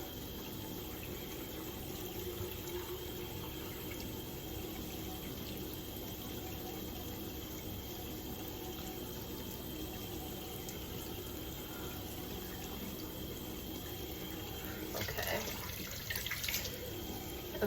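Water runs steadily from a tap into a sink during a skincare session, a constant close hiss and splash that lasts throughout, with a brief louder gush near the end.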